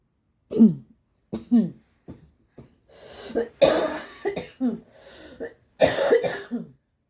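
A series of harsh coughs from one person, close up, coming in irregular bursts with short pauses, some with a throat-clearing rasp.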